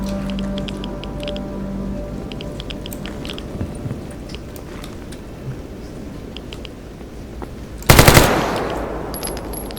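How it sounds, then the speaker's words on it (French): Gunfire in S.T.A.L.K.E.R. sounds as a short loud burst near the end, following a stretch of quieter ambient game noise with faint clicks and thuds. "C'est un tir réflexe qui n'a pas atteint sa cible."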